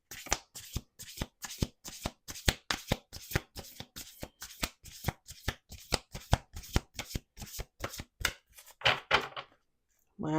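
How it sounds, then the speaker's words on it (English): A rapid riffle shuffle of playing cards, a steady run of crisp flicks close up, ending with a brief pause and a final handling sound. "Let's do 2 more shuffles."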